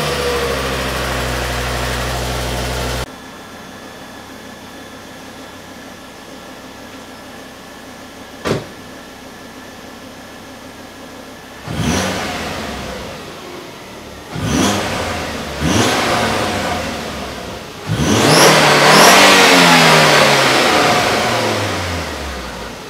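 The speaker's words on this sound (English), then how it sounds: "let's hear what the car is sounding like right now," A completely stock Volvo C30 exhaust idles with a low, steady hum, then the engine is blipped through several sharp revs that rise and fall, the last one longest and loudest, recorded close outside the car.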